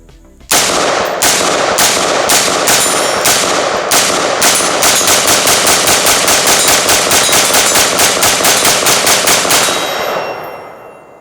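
Radical Firearms RF-15 SOCOM AR-15 rifle emptying a full magazine outdoors, loud sharp shots at first spaced apart, then rapid evenly spaced rounds in a long string, each followed by ringing echo.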